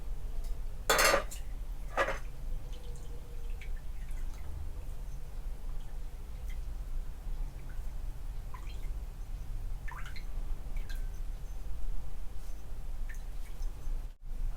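Brewed Doi Ang Khang green tea splashes into three glasses in two short pours near the start. Faint clinks, light drips and quiet handling of glassware follow over a low steady background.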